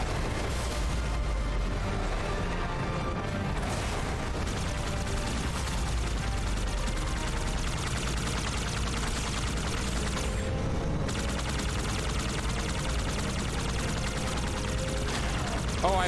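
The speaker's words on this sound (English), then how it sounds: "Getting shot from the ground." Sci-fi battle gunfire in Halo 2 Anniversary, a dense continuous barrage of shots and blasts with mechanical game noise under it, loud and unbroken from start to end.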